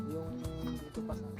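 Several cats meowing close by, a rescue household full of adopted cats and dogs, with short overlapping cries and a low murmur of voices underneath.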